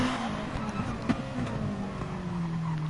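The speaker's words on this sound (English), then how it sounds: "You can hear him using the gears to slow the car down rather than the brakes as well sometimes." Race car in a racing video game at Suzuka, its engine droning with pitch shifts as it downshifts, heard steadily over a hissy background with talk mixed in.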